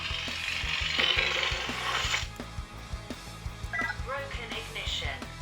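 A Xenopixel v3 lightsaber plays its broken ignition effect, a run of rapid clicking, crackling stutters with brief electronic tonal chirps near the end, close and fairly quiet.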